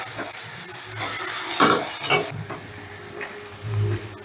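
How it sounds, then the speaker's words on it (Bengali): Eggplant mashed with spices and a fish head is stirred in a sizzling pan, with a close, steady fry and a few scraping strokes of the spoon. "বেগুনটাও মশলা আর মাছের সাথে বেশ ভালো করে মিশিয়ে নিলাম, মানে মাছের মুড়োর সাথে"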